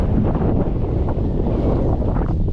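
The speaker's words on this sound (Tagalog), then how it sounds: "Lakas ng hangin amihan." Strong northeast monsoon wind gusts on a mountaintop, buffeting the microphone with a loud, continuous roar that fluctuates throughout.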